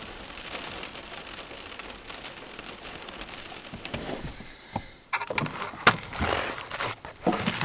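Steady rain patters on the roof of a car at night from inside the parked vehicle, a dense even hiss with louder drops and rattles coming in during the second half.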